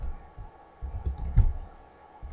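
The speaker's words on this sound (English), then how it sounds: "I'm gonna click save, save video." A computer mouse clicks save in video software, with a few quiet, sparse clicks and one sharper click near the middle against a low background hum.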